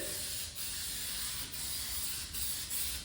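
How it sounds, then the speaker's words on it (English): An aerosol can sprays graphite coating onto a mower deck, hissing in a steady spray with brief pauses between bursts as it is swept back and forth, close and fairly loud. "So I'm gonna go ahead and just spray this on."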